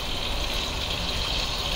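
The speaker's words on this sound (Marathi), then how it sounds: "आता इथे गरम पाणी झालंय, ते आपल्याला गरम पाणी पण घालून घ्यायचं याच्यामध्ये." Hot water pours into a pan of paneer tikka masala, a dense continuous gushing splash, close and fairly loud throughout, with no talk.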